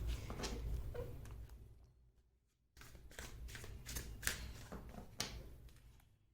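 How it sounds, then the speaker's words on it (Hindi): A deck of tarot cards is shuffled close by in quick riffling bursts, with a short pause in the middle before the shuffling resumes. "मैं आपके सामने ही गाइस कार्ड शफल करूंगी"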